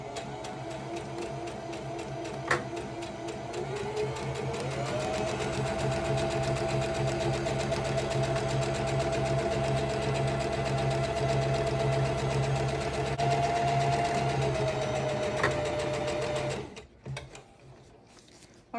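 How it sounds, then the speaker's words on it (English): A sewing machine runs a long, steady straight stitch across the bottom hem of a ribbon skirt. It hums evenly and close up, with a brief speed change early on, then stops near the end. "I'll do a straight stitch all the way across the bottom."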